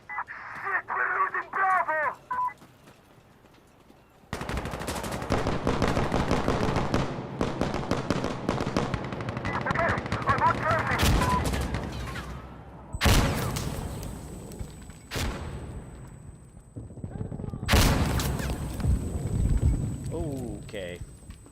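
Bursts of gunfire ring out in the video game Arma Reforger, rapid cracking volleys repeating across the stretch with pauses between them, while a player talks over the action.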